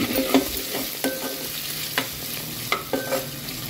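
Chicken pieces fry in spiced oil with garam masala, a crackling sizzle broken by several sharp scraping stirs of a utensil at irregular intervals, close and alone with no talk.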